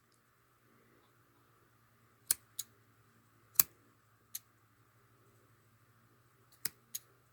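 Scissors snip yarn tassels off a handmade rug in a quiet room, six sharp isolated cuts spaced unevenly, close and crisp, with a brief word spoken.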